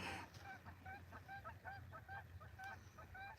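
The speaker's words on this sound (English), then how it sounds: "Something's got them geese all stirred up." Several geese honk repeatedly in quick, agitated bursts at a distance, their calls faint over a low outdoor background near a state park fishing spot.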